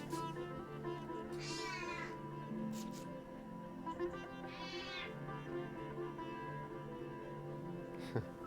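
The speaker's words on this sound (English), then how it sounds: "Just let my cat quickly out." A house cat meows twice in a quiet room, drawn-out and moderately close, over a soft steady background hum.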